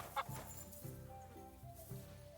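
A chicken clucks in the video game Kingdom Come Deliverance 2, a few soft, low, rhythmic clucks with a brief higher squawk at the start, faint and alone.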